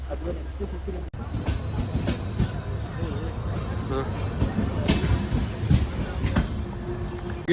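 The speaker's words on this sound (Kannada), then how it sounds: "ನಮ್ಮ ಟ್ರೈನ್ ಬರ್ತಾ ಇದೆ ಶಾಲಿಮಾರ್ ಎಕ್ಸ್ಪ್ರೆಸ್" A Shalimar Express passenger train rumbles and clatters into Castle Rock railway station, with wheel noise and a faint squeal, while people talk nearby.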